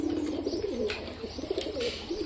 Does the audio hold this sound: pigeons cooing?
yes